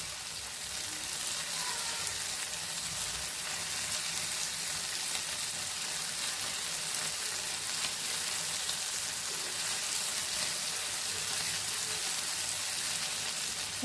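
Andhra gongura chutney fries in a pan with tomato and onion, making a constant close sizzle with faint bubbling and crackling that lasts throughout, with no speech.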